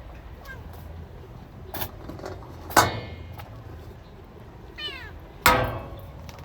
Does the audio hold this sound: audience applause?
no